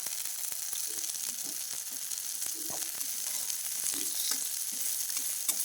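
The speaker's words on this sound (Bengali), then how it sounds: "অল্প একটু তেল দিয়ে কটা জিরে দিয়ে দেবো এতে।" Medicinal leaves fry with cumin seeds in a little oil, giving a soft, steady sizzle with scattered light crackles, fairly quiet and unbroken throughout.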